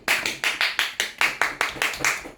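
Clapping in a steady rhythm, about ten evenly spaced claps in quick succession, each one crisp and close with a short decay.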